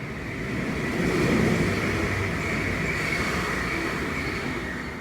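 An Airport Express train rushes past at Sunny Bay Station on Lantau, a loud steady roar of wheels and rail noise holding for several seconds, close by, with no voices.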